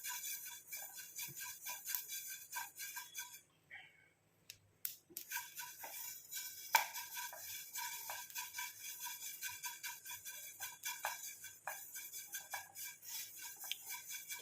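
Cumin fries in a pan and is stirred, giving quiet scraping and clinking strokes of a utensil over a faint steady sizzle, with a short pause partway through.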